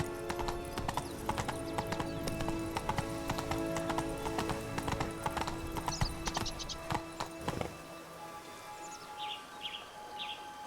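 Roach the horse gallops in The Witcher 3, hooves pounding in a fast, steady clip-clop close up, then the beat fades out and birds chirp in the quiet that follows.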